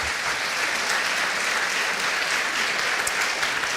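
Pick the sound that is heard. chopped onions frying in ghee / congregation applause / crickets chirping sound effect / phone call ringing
congregation applause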